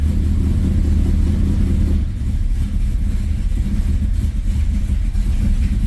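A 1968 Plymouth Belvedere engine running with the choke on, a loud close idle that shifts in tone and dips briefly around the middle before carrying on with a steady rumble.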